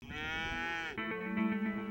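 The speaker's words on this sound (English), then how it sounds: "North of the ranch, the Smiths' heifer cattle spend the summer on a mix of state and federal grazing allotments" Heifer cattle on a ranch mooing, two long drawn-out lowing calls one after the other, clear and fairly close with no talk.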